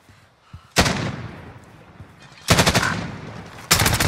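Three loud bursts of rapid automatic gunfire in Call of Duty Cold War Warzone, each a dense rattling volley with a decaying tail, separated by short gaps.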